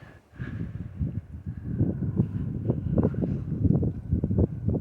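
Steady wind blowing and buffeting across the microphone, a low continuous rumble with gusty swells, no voices.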